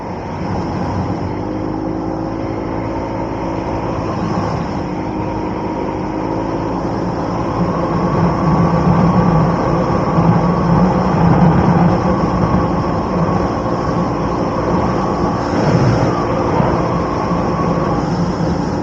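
A CFMoto CForce 600 ATV fitted with an RNG clutch kit accelerates away outdoors, its engine a steady droning roar that rises in pitch and swells louder partway through, with no talking.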